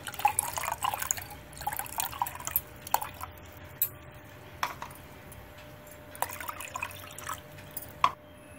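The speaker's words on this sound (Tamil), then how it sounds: "கடைஞ்சி தண்ணி விட்டு நல்லா நீர்க்க கரைச்சிக்கணும் மோரை." Water trickles and drips into churned curd while neer mor buttermilk is mixed, giving close, intermittent splashes and droplet taps with no one talking.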